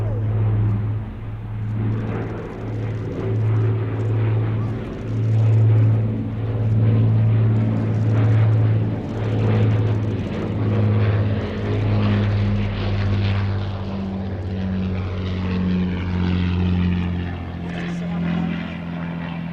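An Avro Lancaster bomber flies past at an air show, its piston engines and propellers droning as a deep pulsing hum that swells and shifts in pitch, with a commentator talking over it.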